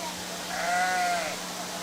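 A sheep bleats at a 4-H swine showmanship event indoors, one drawn-out wavering call rising and fading over about a second, moderately near, over steady hall hum and background chatter.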